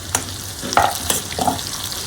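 Tomatoes dropped into hot oil in a pan for a stuffed brinjal bhaji, giving a soft steady sizzle with a few brief stirring scrapes, close and fairly quiet, no voices.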